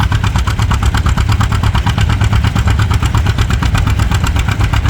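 A restored John Deere tractor at a Nebraska tractor pull lugs hard, its engine thumping in a fast, even pulse that stays loud and close throughout.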